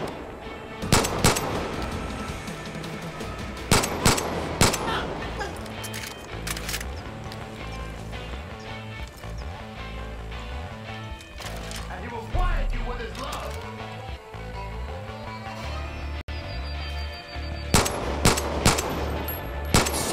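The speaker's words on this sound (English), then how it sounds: "I'm shooting too quick. I'm not taking into account the recoil." Machine-gun fire in Far Cry 5 comes in quick bursts of loud, sharp shots spread across the clip, set against game music and ambience, with someone talking over parts of it.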